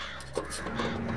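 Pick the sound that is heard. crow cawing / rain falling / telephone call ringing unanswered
crow cawing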